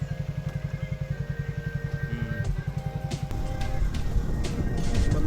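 A Triumph motorcycle engine thrums steadily while riding on the Agra–Lucknow Expressway, a rapid low pulsing exhaust beat with wind noise building over it.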